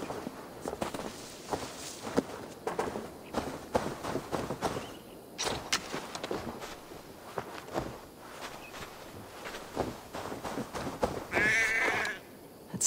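Footsteps shuffle and thud steadily for several seconds in Assassin's Creed Valhalla, then a single sheep bleat rises near the end.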